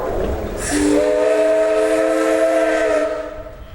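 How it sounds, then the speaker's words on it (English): A wildcat steam whistle blows at the National Threshers Association steam show in Wauseon, Ohio: one loud, sustained chordal shriek that rises in, holds for a couple of seconds, then fades as the steam cuts off. "Let's call it a wildcat whistle"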